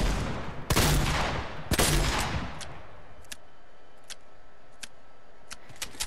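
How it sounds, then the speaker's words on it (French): A heavy pump shotgun in Fortnite creative mode fires two loud, booming single shots about a second apart, followed by a string of faint, quick clicks and ticks. "Et puisque c'est le fusil à pompe à lourd, il tire un seul balle."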